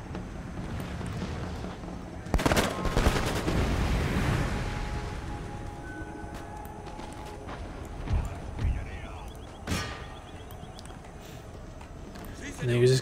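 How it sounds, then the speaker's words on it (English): An Empire: Total War battle with cavalry hooves pounding, a canister shot blast and infantry musket fire crackling, all layered under a steady battlefield din while someone talks over it. "Cavalry canister shot. Then my infantry will open fire."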